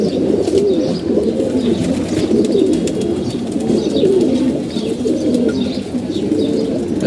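Jira Gola pigeons coo steadily and overlapping, several birds close together in a continuous murmuring chorus with no voices.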